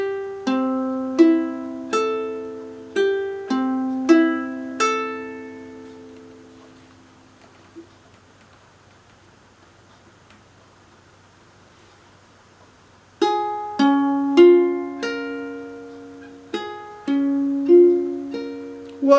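Ukulele with a capo on, plucked notes and strummed chords ringing out close and clear, a quiet pause in the middle before playing resumes, with no talk.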